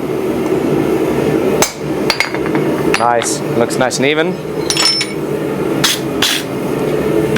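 Hammer blows on hot metal at a blacksmith's anvil during forging, several sharp ringing strikes spread irregularly through the clip, close and loud over a steady shop hum, with someone speaking briefly between blows.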